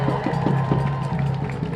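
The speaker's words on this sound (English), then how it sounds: "Give Laura a big round of applause" Rally crowd applauding and cheering at a Planned Parenthood political rally in New York City, a dense steady wash of clapping with rhythmic thuds, loud and continuous throughout.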